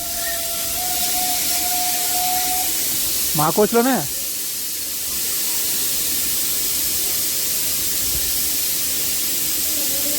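Air brakes hiss on a Nanded to Adilabad Intercity Express after the emergency chain is pulled. The loud, steady hiss runs throughout, and a voice speaks briefly in the middle.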